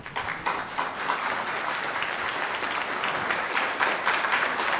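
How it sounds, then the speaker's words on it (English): Sustained applause from an audience at a Lagos governorship candidates' debate, steady and dense clapping filling the room for about five seconds with no pause. "The more you clap, the more you take his time."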